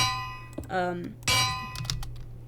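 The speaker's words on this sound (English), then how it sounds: "You could just get a bell." Bell struck in the Minecraft video game, two bright ringing clangs with a shimmering decay, close and clear over a faint background hum.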